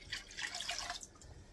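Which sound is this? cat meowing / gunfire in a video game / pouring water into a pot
pouring water into a pot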